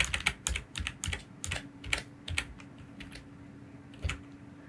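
Keys on a computer keyboard are pressed in quick bursts of sharp clicks, some louder taps among lighter ones, close by and fairly quiet, with no voice.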